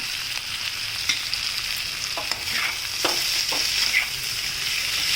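Onions sizzle steadily in a hot pan for spicy potato katli, with a continuous frying hiss broken by several soft stirring scrapes and clicks, close and unaccompanied by talk.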